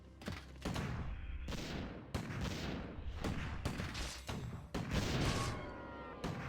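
Mortar team firing in a war strategy video game, a series of heavy booming blasts and gunfire bursts with sharp onsets and long decaying tails, loud and close, several shots in a row without speech.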